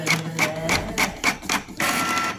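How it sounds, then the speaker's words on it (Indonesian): A printer runs off a receipt for school BOS funds in a steady rhythm of about seven evenly spaced mechanical passes, each a loud rasping buzz, alone without talk. "yang ada di printer, nanti akan keluar"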